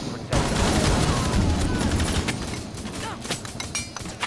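Rapid pistol and gunfire bursts in the video game Rainbow Six Siege, loud cracking shots in quick succession with clinks and a thinning echo, over a busy game background.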